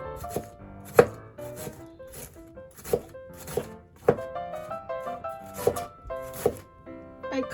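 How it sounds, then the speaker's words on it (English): A knife cutting cabbage for okonomiyaki on a board, making sharp, close thunks in an uneven rhythm of about a dozen strokes, some louder than others, with no talking. "Now we can prepare cabbage. You can cut it like this."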